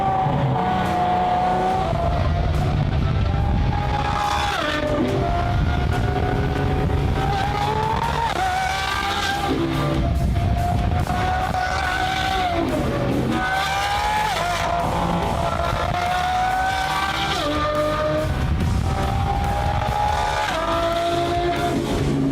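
A high-pitched supercar engine revs hard over and over, its shrieking tone climbing and dropping in quick waves like a Formula 1 car. The sound is loud, close and unbroken, with no voices.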